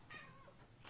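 A cat meows once, close and clear, with a faint second call starting at the end, in a quiet indoor room.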